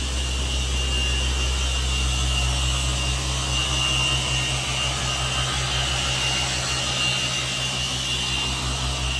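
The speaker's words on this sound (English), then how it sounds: "Miss Mackenzie still polishing things out on the backside" A power polisher works the sun-faded rear body panel of an RV under rebuild in a shop, a continuous loud motor whine with a steady low hum throughout, no pauses and no talking.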